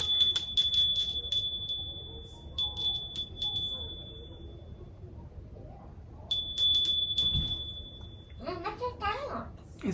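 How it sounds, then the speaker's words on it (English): A small prayer bell rings in bright, clear strikes with lingering tones, sounding in three separate bursts, followed by a person beginning to speak at the end. "It's my bell."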